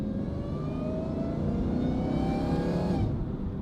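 A supercharged Dodge Challenger Hellcat engine with a titanium exhaust revs up steadily with a rising supercharger whine and throaty exhaust roar, loud and close, then eases off near the end.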